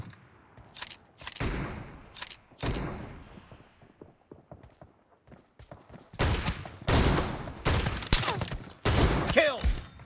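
Shotgun blasts in the video game PUBG during a team deathmatch: loud, booming shots with decaying tails, a few spaced early on, then a dense cluster of rapid blasts in the second half.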